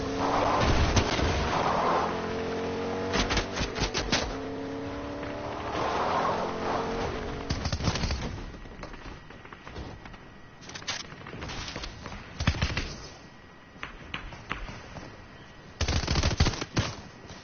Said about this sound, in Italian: Ma stanno sparando a te.